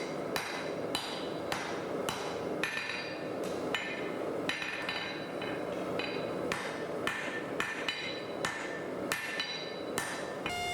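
Steel billet for a San Mai EDC knife hammered on an anvil after welding, a steady run of loud, ringing metallic blows at a regular rhythm, close and without talk.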